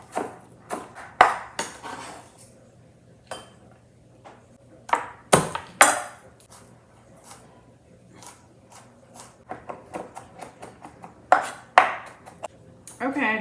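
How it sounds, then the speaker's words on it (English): A knife chops through pickled red onions on a cutting board in irregular bursts of sharp taps, some quick runs and single strikes separated by quiet gaps, fairly close with faint background hum. "Actually, let's just give it a quick chop."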